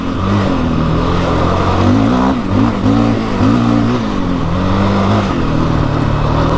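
Engine of a 700cc quad bike crossing rough terrain, a loud continuous drone that rises and falls in pitch as the throttle varies, with no talk.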